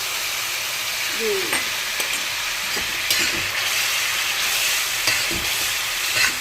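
Water poured into a pan of fish curry sets off a loud, steady sizzle and hiss, with occasional clinks and stirring knocks in the pan.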